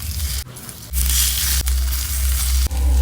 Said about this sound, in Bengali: এবার একে একে সবগুলো তাওয়ার মধ্যে ভাজার জন্য বসিয়ে দেব।